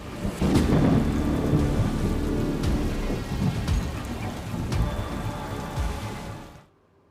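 Heavy rain falls hard in a thunderstorm, drumming loudly and steadily while deep thunder cracks and rumbles through it, before the sound cuts off at the end.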